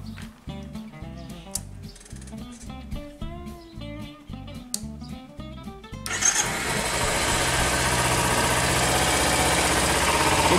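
Kawasaki Ninja 250/300 motorcycle engine being started after a battery hookup, with the crank catching and settling into a loud, steady idle that runs alone for several seconds.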